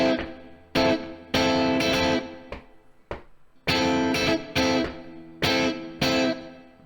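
A Rockschool Grade 3 piece is played up to speed as a riff on overdriven electric guitar, with repeated chord stabs in a steady rock rhythm. Close and loud, with no voices.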